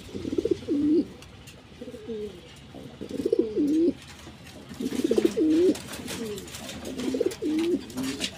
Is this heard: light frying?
no